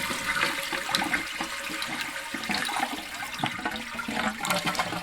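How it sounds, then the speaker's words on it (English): A toilet flushes with a steady rushing, gurgling wash of water that runs continuously at moderate loudness, the bowl refilled by a sump pump. "as I flush the toilet, the ball goes down and pulls the switch."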